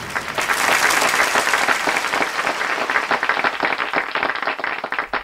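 A roomful of schoolchildren applauds after a recited poem, a dense, loud burst of many hands clapping that holds steady and then thins and fades toward the end.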